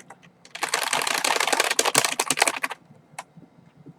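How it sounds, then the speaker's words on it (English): A clicky computer keyboard is typed on in a fast, dense burst of sharp clacks lasting about two seconds, close to the mic, followed by a few isolated taps and quiet. "I know my mic picks up my keyboard when I type"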